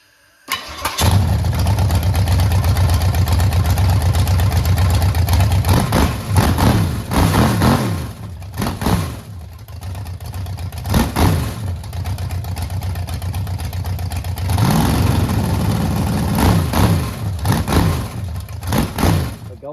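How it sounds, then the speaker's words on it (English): Car engine fitted with a new Maxpeedingrods 650 dual-pump carburetor starts and runs loud and close for about twenty seconds, a steady rumble broken by several sharp throttle blips and revs with no talking. "now it's time to crank it up and see how it sounds with that new Max Feeding Rods carburetor"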